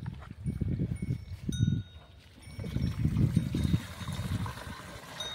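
About two litres of water pours into the tank of a sprayer pump before mixing glyphosate herbicide, a low gurgling, splashing flow in uneven bursts with short pauses, close by.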